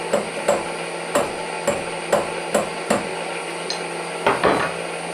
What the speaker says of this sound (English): we need to hammer it in.